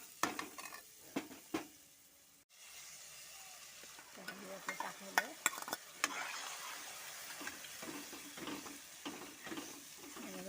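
Peas and potatoes sauté in masala with an onion, tomato and cashew paste, a quiet sizzle broken by frequent spoon scrapes and clinks against the pan, with brief faint voices.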